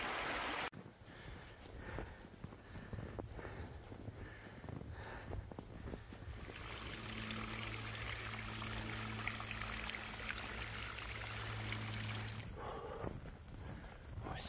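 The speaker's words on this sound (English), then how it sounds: "Super fresh and super cold spring water coming down from the mountains." Cold spring water runs down a Bavarian mountainside after snowfall, a steady rushing trickle close by, joined midway by a low droning hum and preceded by crunching steps.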